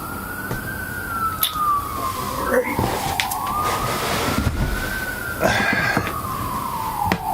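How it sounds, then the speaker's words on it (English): Wailing emergency sirens rise and fall at a distance while wind blows through trees and rustles the microphone, with faint traffic rumble beneath. "Seems like you can probably hear all the sirens and the wind blowing through my trees."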